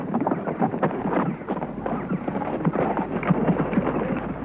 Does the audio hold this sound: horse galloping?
yes